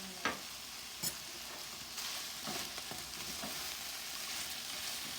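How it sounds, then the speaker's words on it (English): Chilli chicken with cashews and vegetables stir-frying with a few drops of sesame oil, a steady close sizzle broken by a few sharp clacks of a spatula against the pan. "mix everything and fry for some time, and add some sesame oil"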